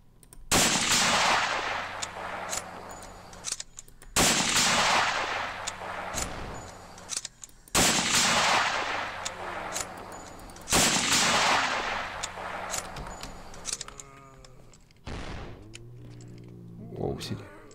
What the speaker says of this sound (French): Ça, c'est des explosions.